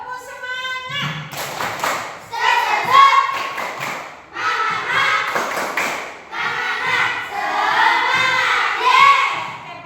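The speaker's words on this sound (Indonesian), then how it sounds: "Tepuk semangat" A class of schoolchildren chanting and clapping in rhythmic bursts, several loud group passages separated by brief pauses, with voices mixed throughout.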